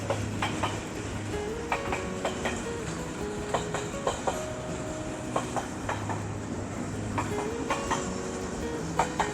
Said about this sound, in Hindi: काफ़ी बड़ी ट्रेन है